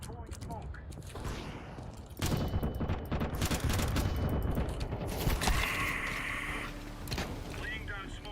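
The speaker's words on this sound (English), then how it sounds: "Throwing a grenade. Throwing smoke." Counter-Strike 2 gameplay with grenade and smoke grenade throws amid rapid gunfire bursts, clicks and mechanical rattles, busy and loud, with a voice talking over it.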